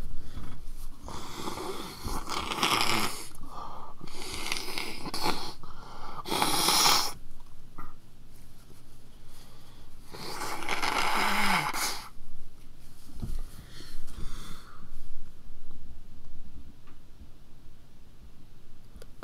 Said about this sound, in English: And gonna blow my nose.